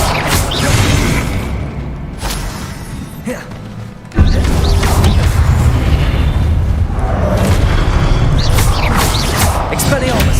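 In Hogwarts Legacy gameplay, the Confringo fire spell detonates with a loud, sudden blast midway, amid crashing combat effects and cast spells, while a voice shouts spell names over the action.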